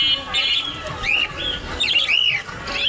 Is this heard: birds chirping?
yes